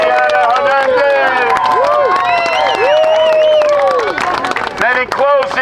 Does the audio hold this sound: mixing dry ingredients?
no